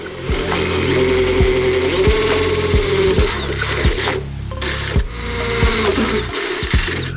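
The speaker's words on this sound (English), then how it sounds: "Got me 90-degree drill again. Okay, I'm drilling through, so watch your fingers." A 90-degree drill whines steadily as it bores through metal on a C8 Corvette, running nearly continuously with a brief pause, loud and close over background music.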